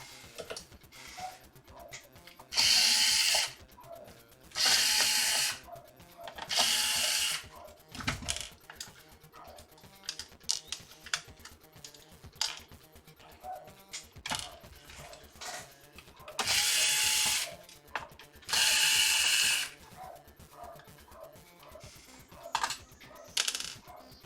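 Clicks, scrapes and metallic rattles come from tools working on a retro computer case, broken by several loud bursts of rustling noise, close-up with no speech.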